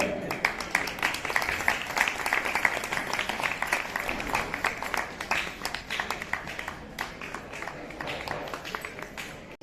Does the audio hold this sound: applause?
yes